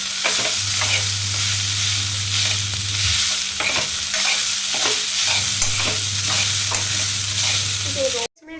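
Washed poha is stirred and mixed in a pan, with steady, close scraping and tossing strokes over a low hum and a soft sizzle, continuing without pause for several seconds and no talking.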